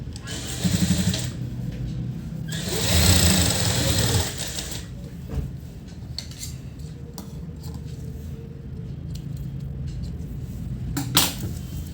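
A sewing machine stitches a chudithar seam up close, giving a rattling mechanical whir with a louder run of stitching early on, then lighter clicks and handling noises.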